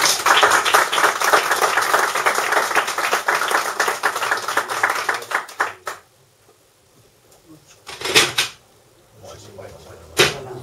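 An audience at a book presentation claps for the author, Carlos. The clapping is dense for about six seconds and then stops suddenly, followed by a few scattered taps and knocks, with some faint voices in the room.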